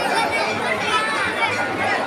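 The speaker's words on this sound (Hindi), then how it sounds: "भाई, 1 जनवरी के मौके पे बहुत काफ़ी ज़्यादा भीड़ है" A dense crowd packs Ram Raja temple on New Year's Day, a steady, loud babble of many voices merging into continuous chatter with no single voice standing out.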